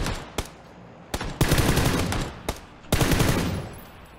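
Sharp bursts of gunfire in PUBG crack in quick volleys, several loud shots and rapid strings of fire, with a raw, close-up game-like quality.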